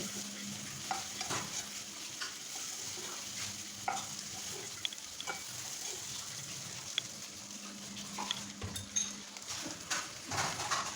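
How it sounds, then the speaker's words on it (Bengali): Large prawns fry in oil seasoned with turmeric and chilli, giving a low, even sizzle broken by scattered light spatula taps and scrapes over eleven seconds, nearby and without talking. "একটু মরিচ দিয়ে এখন আমি চিংড়ি মাছটাকে বেজে নেব"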